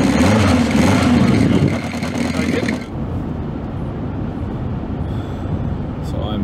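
A vintage motorcycle engine runs with a steady, throaty rumble, louder and rougher for the first few seconds before settling into a softer idle.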